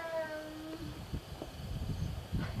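A calico cat meows a few times, high and drawn-out near the start, in a quiet room while children and adults move and murmur around it.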